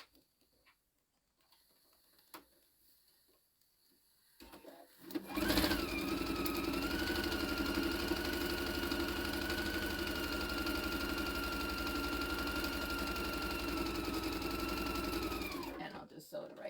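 A sewing machine stitching a quarter-inch seam on a grid tea towel: after a quiet start with faint taps, a steady, close motor whir with rhythmic needle clatter runs continuously for about ten seconds, then stops.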